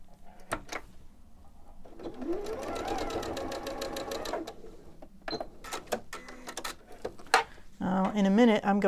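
A sewing machine joins three quilt pieces with a quarter-inch seam for a springtime table runner, running in a steady rapid stitching burst for about two seconds amid clicks and fabric handling, followed by short stitching bursts and a hum.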